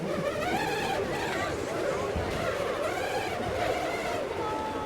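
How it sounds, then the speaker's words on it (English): A continuous buzzing, whirring drone hums steadily, rising and falling slightly in pitch as a hex nut rolls rapidly around the inside surface of a spinning balloon. "when I spin the balloon, the nut is actually rolling around the inside surface of the balloon"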